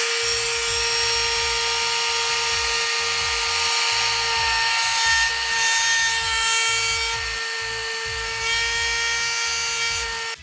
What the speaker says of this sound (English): We are using 80 grit Diablo sandpaper and our GET75150 Bosch sander